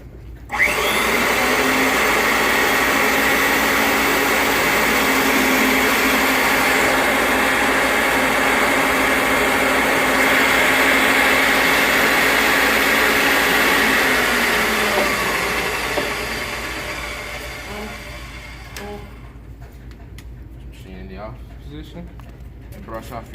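A pipe threading machine with its reamer cutting burrs from the pipe makes a loud, steady mechanical whir and grinding that runs for about fifteen seconds, then winds down and fades.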